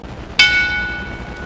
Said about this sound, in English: Bell's underway